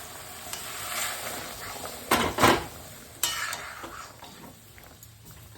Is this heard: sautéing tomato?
yes